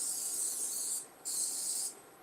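Coconut oil cooking spray hisses from a can into a heating pan in two steady bursts, the first about a second long and the second slightly shorter, separated by a brief pause, close and fairly loud.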